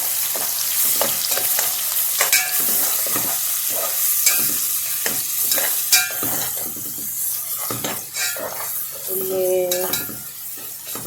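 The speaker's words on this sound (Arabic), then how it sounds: "بننزل بالبصل وبعديها الثوم زي ما شايفين كده" Red onion and garlic fry in a pan with a steady sizzle, while a utensil stirs and clinks against the pan throughout, close and clear.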